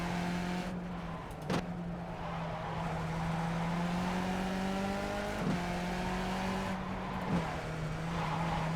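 Simulated race cars in iRacing run together in a pack, with engines droning and revving at close range, pitch rising and falling, and several sharp shifts or passing bursts cutting through.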